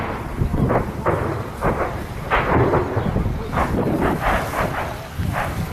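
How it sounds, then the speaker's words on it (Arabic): Shelling explosions in Marea, Aleppo countryside: a series of repeated booms and rumbling blasts at irregular intervals over a constant outdoor roar, with faint voices now and then. "قصف عن قدامية ميرع"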